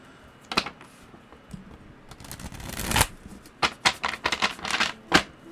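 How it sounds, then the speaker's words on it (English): A deck of tarot cards being shuffled, with soft riffling bursts that build to a loud flurry, then a rapid run of crisp snaps and taps close by, with no voices. "you shuffle it 7 times and you're random"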